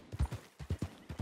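Horse hooves clip-clop in Red Dead Redemption 2, a quick run of muffled, close thuds in an uneven walking rhythm.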